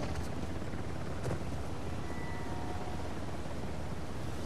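Steady rotor drone of a helicopter in the video game Uncharted: The Lost Legacy, a constant broadband wash with no voices over it.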